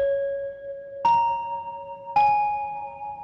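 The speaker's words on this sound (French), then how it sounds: "donc je vais prendre une cloche directement ici," Dark-toned bell notes for a music production ring out three times, each a clear struck tone with a long sustaining decay, alone and fairly loud.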